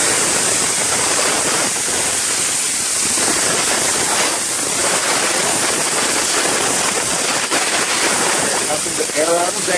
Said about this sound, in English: while your hoses are draining and you're hearing nothing but air